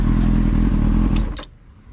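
A cheap, worn used motorcycle runs with a loud, steady engine drone that fades out after a couple of short clacks, no talking.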